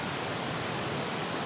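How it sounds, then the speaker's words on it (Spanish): Recorded river sound for a guided meditation, a dense, steady rushing wash of flowing water with no voices. "el río que suena durante unos 10, 15 minutos"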